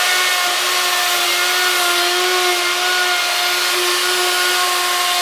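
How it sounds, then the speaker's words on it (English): A router table cutting a wood template, a loud, steady high-pitched motor whine with a constant tone that holds for several seconds and cuts off abruptly at the end. "if we don't have a die cut, then we come over to the router table over here."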